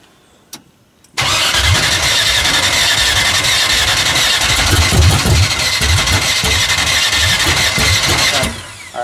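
A Chevrolet Camaro engine cranks over after a couple of faint clicks, a loud continuous churning of the starter close by with a rhythmic low pulsing, spinning steadily for several seconds before easing off.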